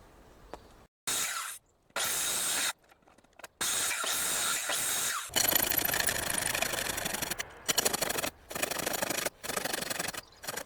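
Natural timber for a treehouse cabin is worked by hand, with bursts of rasping, rubbing strokes broken by short silences, some longer steady passages and a brighter scraping run midway, all close by.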